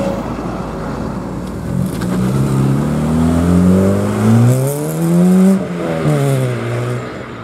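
A Ford Escort Mk2 RS2000 with a swapped-in RS engine revs hard at a Ford meet, its loud engine note climbing in pitch through repeated rising pulls and then easing off near the end.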